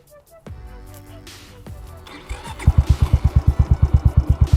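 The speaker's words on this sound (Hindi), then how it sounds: "ये एक बटन से जो है ना बाइक आपकी स्टार्ट हो जाएगी" A Yamaha YBR 125 motorcycle is started with a keyless push button: a brief whirr of the starter, then the single-cylinder engine catches and settles into a loud, steady, close idle putter.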